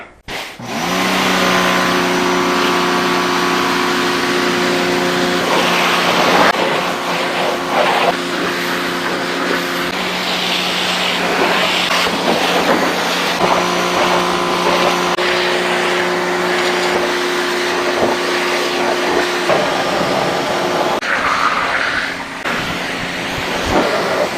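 TEANDE 3800PSI gas-powered pressure washer running steadily while rinsing a car, its loud engine drone holding throughout with shifts in pitch as the spray is worked.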